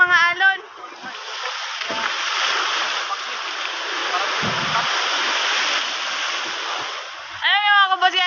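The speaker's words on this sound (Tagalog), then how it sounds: "Ang lalaki ng mga alon." Big sea waves wash and splash continuously around a small fishing boat out at open sea, a loud steady rushing roar, with a voice briefly at the start and end.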